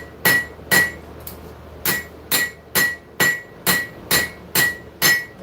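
Steady hammer blows ring out as metal is forged on an anvil, about ten sharp metallic strikes in an even rhythm, close and loud with quiet gaps between.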